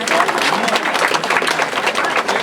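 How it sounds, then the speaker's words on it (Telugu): Audience applause at a felicitation ceremony in Nellore, Andhra Pradesh: dense, steady clapping from a crowd that fills the whole stretch with no pause. "అందరూ చప్పట్లు కొట్టాలి"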